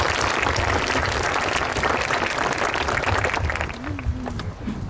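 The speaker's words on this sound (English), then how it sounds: "a nice round of applause for Phil." A graduation ceremony crowd applauds steadily with dense clapping that fades slightly near the end.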